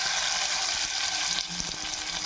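Mustard seeds, cumin and chana dal fry in hot oil for a South Indian tempering, giving a steady, close sizzle with a few soft stirring scrapes near the end and no talking.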